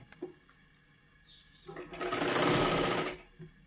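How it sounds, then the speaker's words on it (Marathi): A sewing machine stitches piping in a round shape onto a katori blouse, running close and steady for about a second and a half after some faint handling noises, with a voice speaking lightly around it. "हे आणि ब्लाऊजवरती गोल आकारामध्ये ते आपल्याला शिलाई करून घ्यायचं आहे व्यवस्थित पूर्ण"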